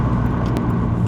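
A JDM Subaru WRX STI 2.0 Hawkeye accelerates hard in second gear from the cabin, a loud, steady turbocharged engine roar that holds through the short burst.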